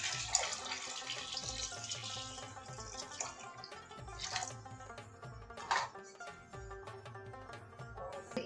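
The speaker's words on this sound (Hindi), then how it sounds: "अब हम इसके अंदर पानी शामिल करेंगे।" Water poured into a cooking pot holding lentils and beef for haleem, a soft splashing trickle with clinks of utensils, quiet and close.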